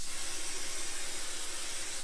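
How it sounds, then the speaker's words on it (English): Cooking spray hisses steadily from a can onto a muffin tin, one continuous close spray of about two seconds with no talking. "we're going to take a muffin tin. You're going to need 2 because it's going to make about a dozen, and we're just going to give it a spray."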